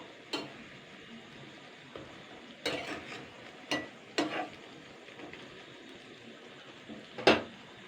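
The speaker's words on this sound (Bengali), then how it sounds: "এইগুলোকে আমি ভালো করে নাড়াচাড়া করে নেবো" Sweets are stirred in sugar syrup in a pan over a low, quiet sizzle, with about half a dozen spaced scraping knocks of the spoon against the pan, faint and close, with no speech.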